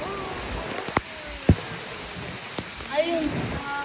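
Rain falls outdoors as a steady soft hiss, broken by a few sharp taps and thuds, with faint voice-like sounds drifting underneath.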